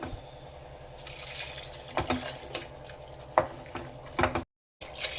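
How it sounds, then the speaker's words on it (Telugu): Water goes into a village-style curry of black-eyed peas, potato and brinjal with peanut powder in a pan. Faint liquid sloshing runs under sharp metallic spoon clinks and scrapes, and a short silent gap falls near the end. "ఇప్పుడు మనం వాటర్ యాడ్ చేస్తున్నాం"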